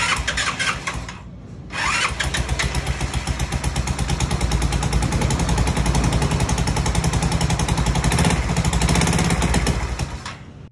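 A motorcycle engine, an abandoned bike left on the road, catches after a brief crank and settles into a loud, rapid, rattling idle that runs steadily close by, with no talk.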